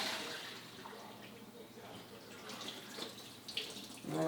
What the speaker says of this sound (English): I'm just gonna rinse them through a colander and just make sure there's no water.